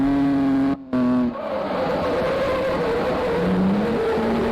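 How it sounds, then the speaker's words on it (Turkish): A Volkswagen Golf in a mobile drift simulator game, with a steady, loud synthetic engine drone and tire squeal as the car slides, briefly cut out twice, with pitch shifting as it drifts. "Acayip kaydırıyordum arabayı ya."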